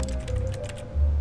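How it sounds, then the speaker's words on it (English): Soft typing-like clicks from mouse clicks in the video game The Stanley Parable, a quick close run of keyboard-style taps over a low steady hum, with a louder thump near the end. "It sounds like you're typing when you click."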